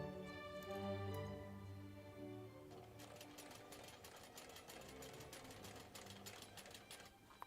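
A sewing machine stitches a carry-all bag, its rapid mechanical needle chatter running continuously and close after an opening hum, with no talking.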